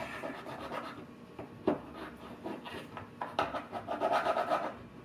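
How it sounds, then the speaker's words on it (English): Hand sanding a 3D-printed plastic part, a steady scratchy rubbing that rises and falls in uneven strokes, close and fairly quiet, with a few sharper scrapes and no talking. "I'm just going to sand this"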